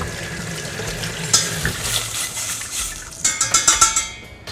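Close, steady sizzling and bubbling of coconut milk in a hot pan for green curry, with a few sharper crackles and clinks toward the end; no one speaks.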